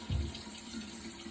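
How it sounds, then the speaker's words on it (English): A bathroom tap runs with warm water while a face is rinsed, a faint steady hiss of flowing water with a soft splash at the start. "So now I'm gonna rinse with warm water again."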